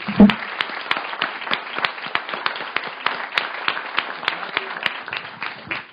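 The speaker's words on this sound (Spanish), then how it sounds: "yo les quiero pedir un aplauso a los participantes" A room of people applauds the participants after an evening event, steady crowded clapping with individual sharp claps standing out, and a brief thump at the start.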